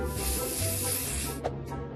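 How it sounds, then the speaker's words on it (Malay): A cartoon can of slippery spray hisses out in a loud, continuous close-up spray burst that cuts off abruptly, followed by a brief second puff. "Saya ada ciptaan keselamatan yang baru. Semburan kelicinan."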